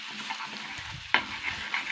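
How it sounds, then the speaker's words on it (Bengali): Ginger-garlic paste fries in a nearly dry pan while a spoon stirs it, giving a steady close sizzle with soft scraping and one sharper clink partway through. "এটাকে আমি 2 মিনিট নাড়াচাড়া করে নেবো"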